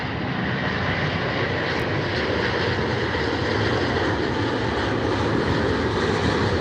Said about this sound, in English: this is an Lufthansa Airbus A350-900 coming in from Munich